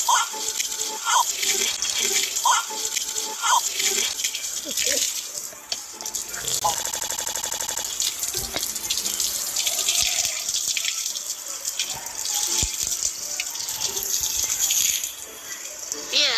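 Water runs from a tap for washing, a steady splashing stream with dripping and a short pause midway, while someone talks over parts of it.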